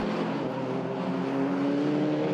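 Race cars lap the Croft circuit, a close engine roar holding a steady droning pitch that rises slightly throughout, loud and continuous with no break.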